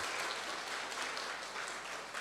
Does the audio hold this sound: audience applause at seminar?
yes